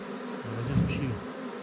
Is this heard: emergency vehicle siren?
no